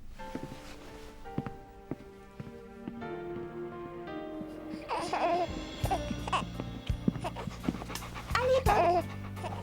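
A dog pants and whimpers close by in a drama scene, with quick breathy pants and whining cries rising toward the end over music.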